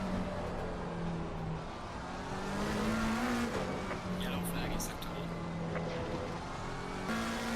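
Race cars in the Assetto Corsa Competizione driving game roar continuously on track during an out-lap, engine tones rising and shifting as cars run close together, with brief tire squeal and a voice talking over the engines.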